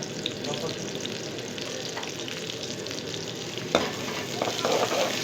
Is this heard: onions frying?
yes